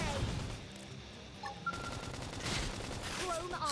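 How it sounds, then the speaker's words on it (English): A flame grenade goes off in Xenoblade Chronicles X, a run of loud, rough bursts like rapid gunfire over a busy battle din, with sharp crackling hits recurring throughout. "Flame grenade."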